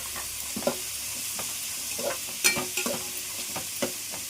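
Ingredients sautéing in a pan give a gentle, steady sizzle, punctuated by irregular taps and scrapes of a stirring spoon, close by and with no talk.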